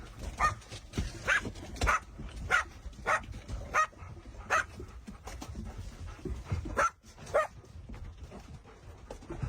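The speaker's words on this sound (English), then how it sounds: "Those are dogs." Several dogs bark and yip in quick, overlapping bursts amid steady background commotion, fairly loud and continuous throughout.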